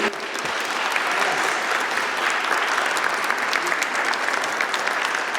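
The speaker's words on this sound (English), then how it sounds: "Can we have a round of applause for the Belmont?" A cinema audience at a film project Q&A at the Belmont gives a round of applause, continuous dense clapping that holds steady and close.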